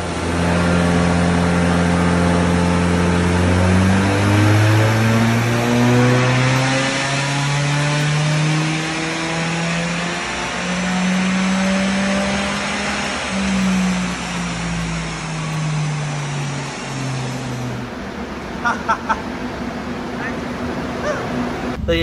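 A Mitsubishi Lancer 4G93 SOHC engine revs on a dyno, climbing in a long pull with gear-like steps before cutting off, loud and close, with a voice talking over it.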